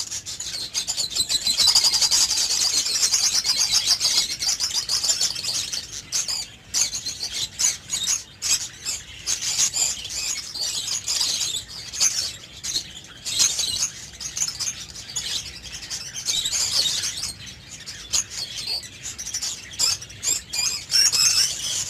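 Budgies pairing in a cage give off a dense, steady stream of high, scratchy chirps and twittering chatter that runs continuously with only brief dips.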